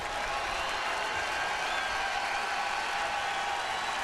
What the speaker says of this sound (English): And the crowd's booing.